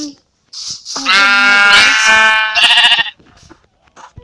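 Sheep bleating in a video game, a drawn-out wavering bleat about two seconds long, loud and close, with short clicks and faint game sounds around it.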